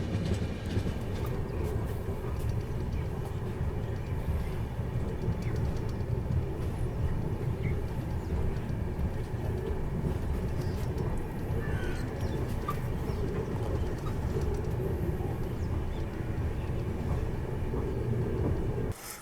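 Dehradun–Subedarganj Express train heading toward Laksar Junction, with a loud, continuous rumble and clatter of wheels and carriages that runs without a break the whole time.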